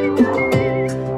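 Whistling within a German-language folk-pop song performed on a balcony, a steady, clear melodic whistle over backing music, near and prominent.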